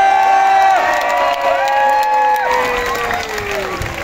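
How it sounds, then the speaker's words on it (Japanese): A crowd at a night DJ event at a yokai bon-odori festival in Tachikawa cheers and claps, with whistles and shouts over thick applause, loud and sustained. "大きな拍手。"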